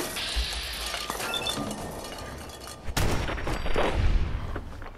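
Gunfire in the video game Fallout 4, a burst of shots and a loud blast with clinking, shattering debris over a busy combat background, close and loud.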